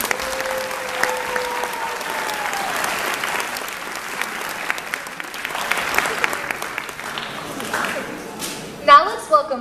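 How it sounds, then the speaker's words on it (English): A high school talent show audience applauds steadily in an auditorium, a dense sustained wash of clapping with a brief tonal whistle early on and a few louder cheers or voices near the end. "Let's give all of these folks a big round of applause."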